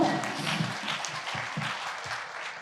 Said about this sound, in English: Yes, clap. 2 hands.